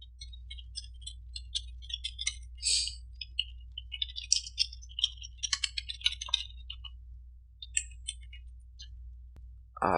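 A username and password typed on a computer keyboard: quiet, sparse key clicks in short irregular bursts with gaps between, faint and close against an otherwise silent background.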